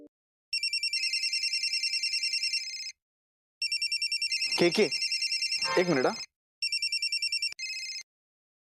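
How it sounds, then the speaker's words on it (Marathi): A telephone rings indoors in bursts of rapid electronic trills, separated by short gaps, while people talk briefly over the ringing. "कोणाचा फोन आहे?"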